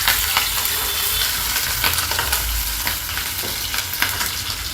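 Onion and curry leaves fry with garlic in a pan for misal, a dense continuous sizzle with scattered sharp crackles and a few stirring clicks, loud and close, with no voices.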